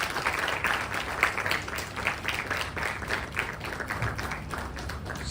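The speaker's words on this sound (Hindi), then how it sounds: "तालियां बजाते रहिए आप लोग।" An audience claps at an event honouring guests, a steady patter of applause that carries on with no clear voice on top.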